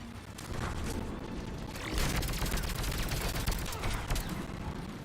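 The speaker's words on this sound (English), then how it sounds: "Who's shooting at me?" Gunfire in the video game Mass Effect 3, a dense rattling burst of rapid shots and booms that stays thick and continuous, growing heavier midway, with no voices over it.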